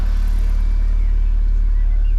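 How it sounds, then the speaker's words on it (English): A BMW four-cylinder N46 engine, fitted with a newly replaced Valvetronic motor, idles with a steady, close, even low rumble that holds unchanged throughout. "just making sure the engine is running okay"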